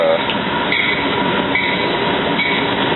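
A freight train rumbles steadily past at close range, loud continuous rolling noise with faint rattling of cars, no pauses throughout.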